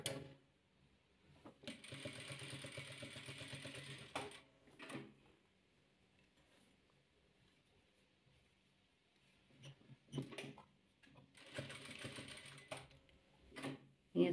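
A sewing machine stitches yellow fabric pieces for hexagonal patchwork, running in two steady mechanical bursts of a few seconds each, separated by quiet handling and faint knocks.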